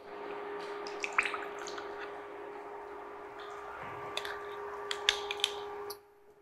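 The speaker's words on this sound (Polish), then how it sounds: "Odleję sobie tutaj wodę." Water being poured off cooked chickpeas in a kitchen, heard as a steady quiet trickle with scattered small drips and splashes, fading out at the end.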